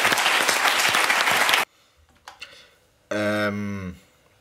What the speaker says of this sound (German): Vielen Dank und Applaus für Katz vom Andi Silberschmidt.